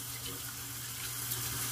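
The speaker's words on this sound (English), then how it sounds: "Let me kind of warm it up under some water." Tap water runs steadily into a sink while a shaving brush is warmed under the stream for a shave, a constant close hiss with a low hum beneath it and no talk.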